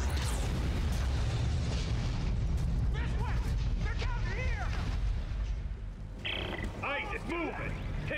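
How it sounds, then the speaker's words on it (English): Grenades burst in Dead Space 3 co-op, with heavy rumbling booms and crackling debris rolling through the scene while excited voices shout over the blasts. "grenades are falling behind us"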